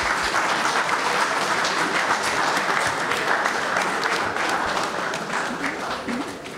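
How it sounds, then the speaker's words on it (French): Conference audience in Montreal applauding, a dense sustained burst of many hands clapping that fades slightly toward the end. "Applaudissez pour eux,"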